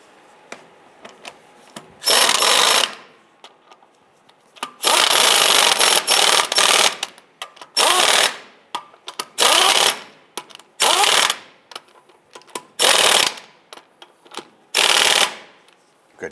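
Impact-style power tool snugging lug nuts on a 1995-2001 Ford Explorer rear wheel, loud close bursts of rattling whirr repeated in about nine short runs, separated by quiet pauses with faint handling clicks.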